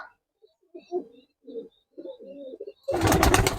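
A pair of Murshidabadi bukchatia pigeons coos softly in a series of short, low calls, followed by a sudden burst of loud, broadband noise.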